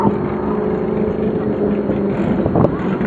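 A Ford Mustang E-Street car on Cobra wheels at an autocross at Salem Civic Center, its engine droning steadily mixed with wind buffeting, with a brief louder surge near the end.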